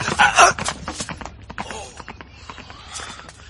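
Horse hooves clatter nearby in an irregular clip-clop run, loudest at first and then settling into lighter, scattered footfalls.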